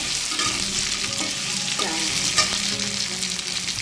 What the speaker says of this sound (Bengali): আলুটা একটু ভেজে নেব ভালো করে